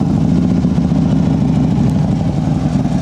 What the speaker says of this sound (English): I'll go ahead and start it up so you can hear that 2-in-1 exhaust.